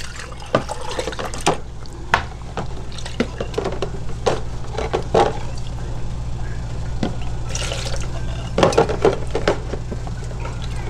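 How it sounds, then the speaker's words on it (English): Water runs over a cosmetic jar as it is rinsed, a steady close splashing and trickling stream with small irregular clinks and drips throughout. "So basically you're going to rinse it like I'm doing now."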